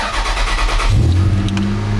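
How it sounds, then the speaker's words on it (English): A car that has sat unused for weeks with a drained battery cold-starts: a churning crank breaks into a loud catch and rev, then settles into a steady, rough idle close by, with no talking. "That was a loud cold start."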